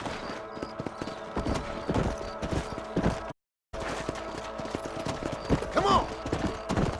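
Horse hooves clip-clop at a steady walking pace in the Western video game Red Dead Redemption. The hoofbeats stay close and fairly loud over a busy game ambience, with one brief dropout partway through.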